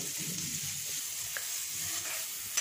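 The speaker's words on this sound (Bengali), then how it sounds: "আর এখান থেকে ভাজিটাও বসিয়ে দিব" Vegetable bhaji frying in a pan gives a continuous, close sizzling hiss with faint stirring scrapes and a small clink near the end.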